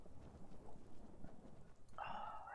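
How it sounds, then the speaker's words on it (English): Steady rain hiss in the game Skyrim runs through the clip, with a low rumble underneath and a brighter tonal wash entering near the end. "it's raining"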